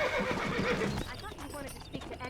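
Horse in Red Dead Redemption neighs loudly for about a second, then hooves clip-clop at a steady trot under faint background voices.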